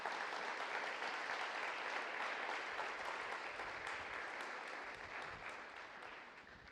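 A church congregation gives a steady round of applause, a dense wash of clapping from many hands lasting several seconds and fading slightly at the end, heard at a moderate distance.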